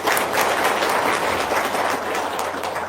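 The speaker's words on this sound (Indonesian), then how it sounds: "Tepuk tangan dulu dong." An audience breaks into loud, dense applause throughout a short stretch, a continuous wash of clapping from many hands with no voices standing out.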